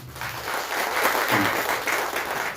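A crowd claps in a sustained burst of applause, dense and steady throughout, with a faint voice underneath at the start.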